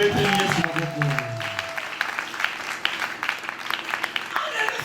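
A church congregation at a Sunday service applauds and cheers for Jesus. Sustained dense clapping and crowd noise rise as sung or played tones fade out early on.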